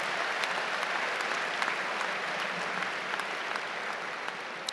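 Audience applause at a distinguished graduate award ceremony, sustained even clapping from a large crowd filling the hall, steady and fairly loud throughout.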